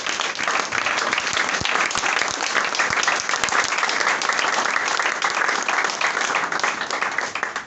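A church congregation breaks into loud, sustained applause that fills the room, a dense wash of many hands clapping at full volume for several seconds without letting up.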